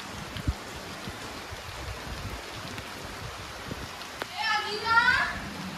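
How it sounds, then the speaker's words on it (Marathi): Heavy rain falls as a steady, even hiss that fills the whole stretch, with faint voices rising briefly near the end. "जस्ट घरी पोहोचून असा धनाधन पाऊस आला."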